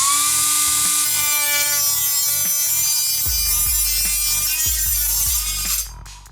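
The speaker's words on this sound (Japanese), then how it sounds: "まあ何の変哲もない塩ビ、ちょっと薄めのやつ、これ切ってみます" A Makita 18V compact cutter runs with a high, steady whining tone as it slices a thin piece of PVC pipe, and low pulsing knocks come through under the motor near the end.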